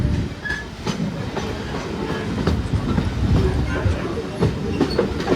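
The Sir Nigel Gresley steam locomotive runs slowly on the Mid Hants Railway near Alton, carriages giving a steady clickety-clack with rhythmic wheel knocks and faint squeals, heard close from on board.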